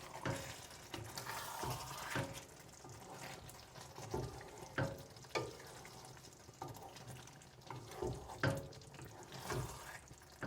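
Water splashes and pours into a pot in uneven bursts, with some bubbling and clattering close by.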